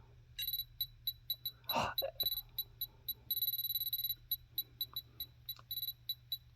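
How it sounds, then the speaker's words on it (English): A Tamagotchi toy emits tiny high-pitched beeps in a quick irregular pattern, some in short runs, faint but distinct over a low steady hum. "Actually does little tiny beeps."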